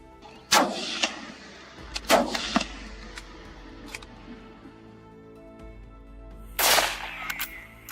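Rifle shots crack out at a herd of baboons on South African farmland, with three sharp reports spaced several seconds apart, each trailing into a short echo against faint background hum.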